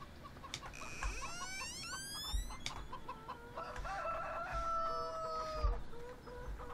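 Chickens in Farming Simulator 17, clucking and a rooster crowing with rising drawn-out calls over a low farmyard hum, several birds close by and no talk.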